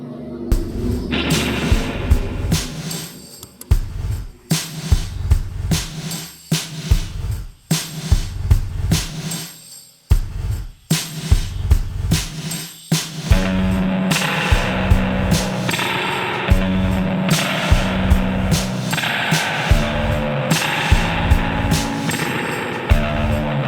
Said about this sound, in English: Got a nice crazy spring reverb.